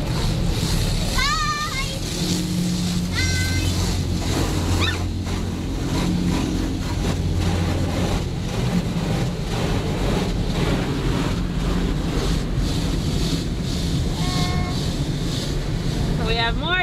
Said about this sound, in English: It's kind of loud in a car wash.